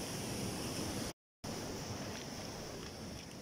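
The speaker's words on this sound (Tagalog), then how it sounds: "Yan, itong talsik ng tubig." Big ocean waves surge and splash along a Philippine coast, a continuous loud wash of surf mixed with wind buffeting the microphone and broken once by a brief dropout.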